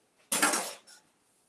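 Metal air fryer racks clatter briefly as they are picked up in a kitchen, a bright metallic clank followed by a softer second rattle, close and then silent.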